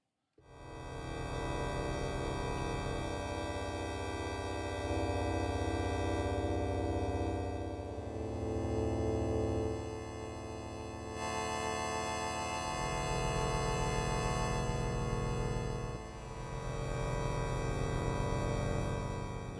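Sustained, layered synthesizer pad chords from the Parallax ReFill, three pads combined into one super pad, with a rich, shimmering texture, shifting harmony every few seconds, steady and fairly loud throughout.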